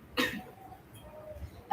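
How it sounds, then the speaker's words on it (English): A woman gives one short, sharp cough up close, followed by faint breathy sounds in a quiet room. "She's going to cough."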